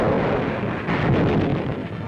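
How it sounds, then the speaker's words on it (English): Heavy naval artillery fire at sea off Tarawa in 1943 rumbles continuously, a dense wall of booms and blasts blending into a loud, rolling roar. "The seas are peppered with gunfire to protect our vessels from lurking enemy submarines."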